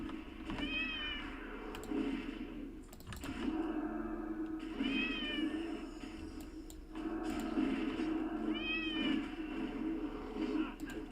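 Repeated cat meows from World of Warcraft recur every few seconds over a steady hum of background game noise, sounding synthetic and looped rather than live.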